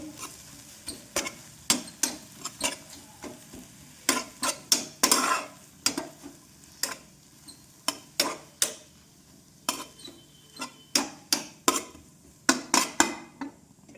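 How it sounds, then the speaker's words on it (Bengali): Egg bhujia, Bengali-style scrambled eggs, is stirred in a pan on a gas stove, with a long run of sharp, irregular metal spoon clinks and scrapes against the pan over a faint sizzle. "এই দেখো ডিমের ভুজিয়া, করে দিচ্ছি।"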